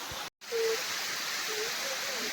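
Dobbur waterfall in dense forest at Bhamragad, Gadchiroli district, gives a steady broadband rush of falling water. The roar is continuous apart from a brief cut near the start, with a faint voice-like tone over it.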